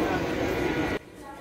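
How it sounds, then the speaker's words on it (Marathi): A train rolls into a busy Mumbai station with a loud, broad rumbling roar that cuts off abruptly partway through, leaving quieter platform ambience. "पाहू शकता तुम्ही ट्रेन आलेली आहे"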